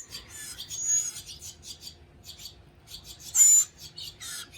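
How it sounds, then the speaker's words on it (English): Soft cooing and rustling from mourning doves held at a Gulf Coast wildlife rescue, close bursts of calls and scratchy movement with one louder flurry, no talking. "Have specialized guys like these doves over here. These are morning doves."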